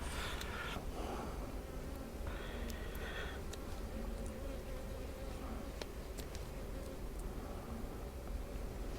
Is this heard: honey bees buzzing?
yes